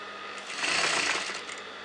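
A sewing machine stitches along a neckline margin on a designer neckline in one short, steady run of whirring that swells in the middle and fades slightly, heard alone at close range.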